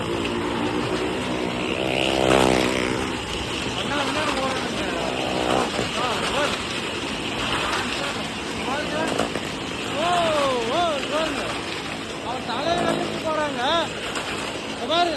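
Roaring, revving engines of cars and motorbikes circle close by inside a circus well of death, droning continuously while excited voices shout over the din.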